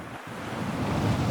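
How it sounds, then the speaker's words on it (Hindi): Large sea waves surge in a cyclone storm, a continuous close roar of churning surf and wind that swells slightly louder toward the end, with no voices. "वो देखो कितना बड़ा पानी का रेला।"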